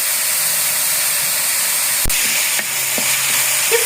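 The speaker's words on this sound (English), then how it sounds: "Fry it properly in the little oil and turmeric, and on high flame, constantly stirring." Fish fries in a little oil with turmeric over a high flame, giving a loud, constant hissing sizzle close by. A single sharp knock and a few faint utensil scrapes sound as it is stirred, and no one speaks.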